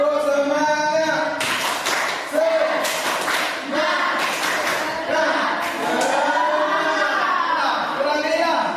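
Pupils in a classroom perform the 'tepuk semangat' chant, clapping in sharp rhythmic bursts while a teacher and children call out the words together, claps and voices mixed loudly throughout.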